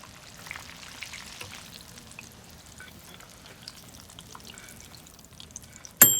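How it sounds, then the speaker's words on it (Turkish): Eggplant slices frying in a pan, a soft, steady crackling sizzle heard close but faint, with a brief utensil clatter at the very end. "Patlıcanları diğer tarafa çevirin. 2 dakika daha kızartın."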